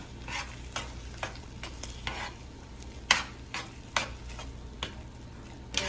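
Food refrying in oil in a pan while cooking huevos rancheros: a soft, continuous sizzle broken by sharp scraping stirs every half-second or so, close and fairly quiet, with no talking.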